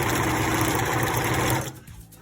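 A sewing machine stitches a fabric face mask in a single fast, close whirring run that stops abruptly near the end, leaving quiet handling sounds.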